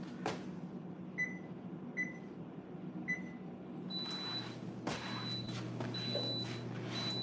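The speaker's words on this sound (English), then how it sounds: "What's beeping?" Three short electronic beeps from an oven repeat about once a second over a low appliance hum, followed by a steady high tone and clattering handling noises.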